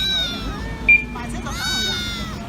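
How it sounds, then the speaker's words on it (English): Kittens near a Chinese factory give a brief high meow or two, mixed with people talking outdoors. "Oh, you got kittens too."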